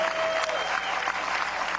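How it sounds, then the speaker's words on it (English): Home crowd at a college baseball game, an NCAA tournament regional final between Vanderbilt and Clemson, applauding a player at bat: steady, dense clapping from a large stadium crowd, even and sustained throughout. "he gets a nice round of applause from the home crowd"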